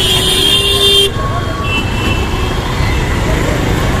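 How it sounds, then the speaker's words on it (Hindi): Heavy road traffic on a busy showroom street in Ulhasnagar, Mumbai: a continuous loud roar of vehicles with a sustained horn toot in the opening second, then steady engine and road noise with faint speech underneath. "बहुत ज़्यादा ट्रैफिक है यार"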